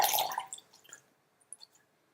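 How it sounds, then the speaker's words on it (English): A dried menstrual sponge is dipped into water, giving a brief splashy slosh followed by a few faint, scattered drips and small wet clicks in quiet surroundings. "Let me get it in some water here."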